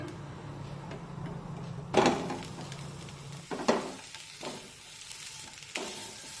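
Grated fresh coconut and jaggery get mixed in a pan, with a faint low sizzle under a few distinct scraping and knocking strokes of a spoon against the pan.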